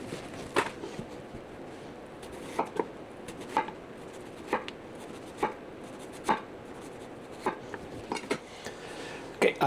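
A knife slicing cucumbers for pickles on a cutting board, steady sharp knocks roughly once a second, close and clear over a quiet kitchen background.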